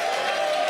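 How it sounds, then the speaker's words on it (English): Applause from an esports event audience welcoming a Summoners War player, a steady dense wash of clapping and crowd noise that stays even and fairly loud throughout the short moment. "Give him a round of applause."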